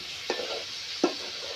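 Two quick scraping strokes of a spoon through avial in a pan, over a soft, steady sizzle of frying in coconut oil.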